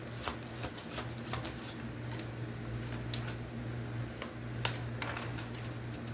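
A deck of oracle cards is shuffled in quick bursts of crisp riffling snaps and flicks over a low steady hum, close and fairly quiet.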